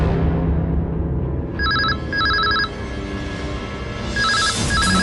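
A landline telephone rings in a house with an electronic double-burst trill, repeating in short pairs against a room murmur, close and clear.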